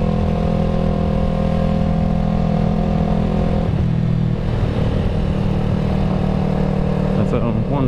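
Yamaha YZF R3 motorcycle being ridden, a loud steady engine drone with strong low harmonics, shifting pitch midway as the revs change, amid wind rush and a voice talking over it.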